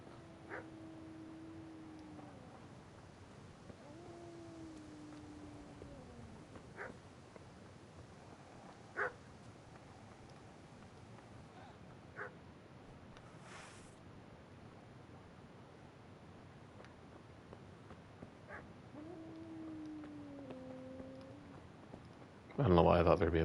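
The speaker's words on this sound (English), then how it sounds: "Why is there always a dog?" A dog in Kingdom Come Deliverance gives a few whimpering, rising-and-falling whines and a couple of short barks, faint and spaced apart against a quiet background, with a louder noise at the very end.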